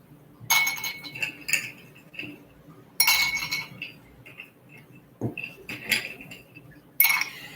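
Ice clinking in a glass while a drink is mixed, with four sharp, bright bursts of clinks and rattles spaced a couple of seconds apart, close and clear.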